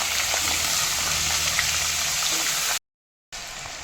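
Turmeric-salted potato pieces fry in hot oil in a kadai for posto, a steady close hiss and sizzle with faint clinks, cutting to silence briefly before the frying noise resumes.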